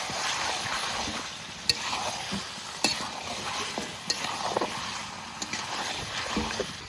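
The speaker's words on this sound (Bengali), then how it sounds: "এবার ভালো করে আবার মিনিট 15 মাংসটা কষিয়ে নেব" Chicken pieces with salt, turmeric and spices being stir-fried in a pan for a village-style curry with giant taro: a steady sizzle under repeated scraping stirs, with a few sharp clacks of the spoon against the pan.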